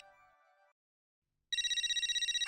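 After a short electronic tone and a pause, a telephone rings loudly in fast, evenly pulsing bursts with a bright, buzzy ring tone, no voices present.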